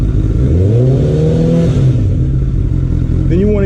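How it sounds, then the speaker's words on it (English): A motorcycle engine gets a quick throttle blip, its pitch rising sharply and then falling back, loud and close, with mechanical clatter underneath. "Then you want to give it a quick rev."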